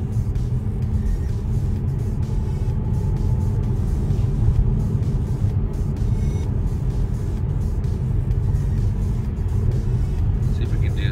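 Steady low road rumble and tyre noise fill the cabin of a Tesla Model S P100D as it drives up to speed, continuous and even with no engine note.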